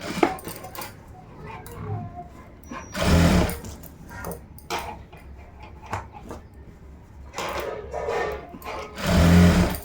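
A sewing machine stitches a blouse lining around the neckline, running in short loud bursts separated by quieter pauses and handling noises, with no talking.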